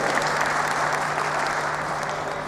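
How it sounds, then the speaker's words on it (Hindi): An audience gives loud, sustained applause, a dense wall of clapping from many hands that holds evenly for a couple of seconds. "इनके लिए भी जोरदार ताली बजाओ एक बार।"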